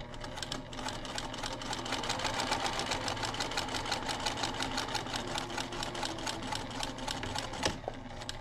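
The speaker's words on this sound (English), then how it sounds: "I'm going to stitch on that line so that it opens up and is in a straight line." A sewing machine stitches a straight seam on fabric placemats, a rapid steady mechanical whir with dense needle ticks running continuously, close and fairly loud, with a brief clunk near the end.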